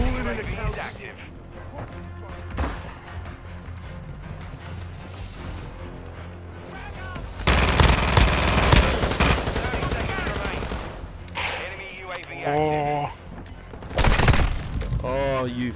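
Video game gunfire in a multiplayer shooter, with rapid bursts and single shots cracking over busy in-game noise, loudest in dense volleys toward the end.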